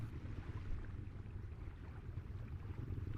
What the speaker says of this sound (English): You can still hear the rumbling from Chris's perspective.